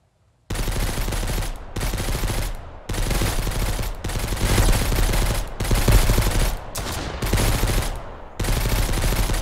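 Sustained, loud automatic gunfire from the video game Mist Survival, long dense bursts of rapid shots broken by a few brief pauses, alone with no talk.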